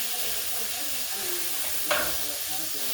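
Steady sizzling of chicken frying in a pan over medium heat, with a scrape of stirring partway through; no talking.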